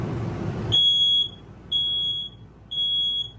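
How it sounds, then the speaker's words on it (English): Three high-pitched electronic beeps from a smoke detector, each about half a second long, evenly spaced and loud in an otherwise quiet travel trailer. "It does have a working smoke detector."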